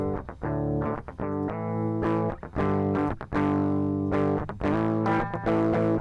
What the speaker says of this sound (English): Drum distortion, can you add some grit?